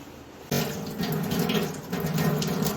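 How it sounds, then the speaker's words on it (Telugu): Tap water runs steadily into a basin as a face is washed with fresh water, a continuous close splashing gush that starts abruptly and stays loud, with small shifts as hands move through the stream. "ఫ్రెష్ వాటర్తో మొహం అయితే ఇలా కడిగేసుకున్నాను"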